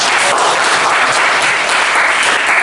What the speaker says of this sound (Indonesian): Oke, sekali lagi beri tepuk tangan buat kalian semua.